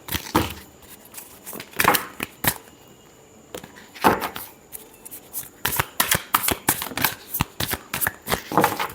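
A deck of tarot cards is shuffled up close, with crisp bursts of riffling and slapping card sounds that come in uneven clusters, separated by brief quiet gaps.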